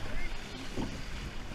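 A surf rowing boat pulled through shallow water at Scotts Head, with a soft wash of water and wind buffeting under a crew's calls, plus a brief splash of an oar stroke.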